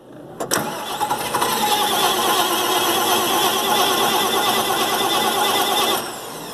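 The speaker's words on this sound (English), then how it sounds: "The starter even sounds better, like it just cranks quicker" A John Deere 4230 tractor with a converted planetary starter cranks its engine in one long, loud, steady grinding run, beginning after a short click and stopping abruptly near the end.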